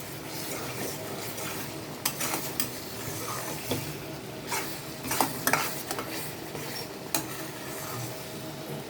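Dried lote fish (Bombay duck) jhuri stir-fried in oil that has begun to separate: a steady close sizzle with scattered scraping clinks of a spatula against the pan, no talking.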